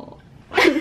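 A person imitates a dog's yawn with a single short, breathy vocal whine that rises out of near silence, close and fairly loud.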